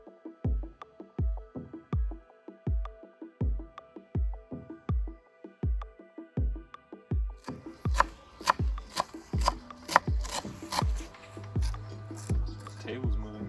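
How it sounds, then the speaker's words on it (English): Garlic and fresh chili being chopped with a knife on a cutting board for chimichurri sauce, a steady rhythm of sharp close knocks that speeds up into quicker, busier chopping, with no talk over it. "Now we're gonna chop it up and put it in together."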